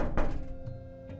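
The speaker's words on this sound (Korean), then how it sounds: "쿵쿵쿵 두드렸대요." A door-knocking sound effect in a horror story narration: a heavy thump followed by two softer knocks against a low background hum.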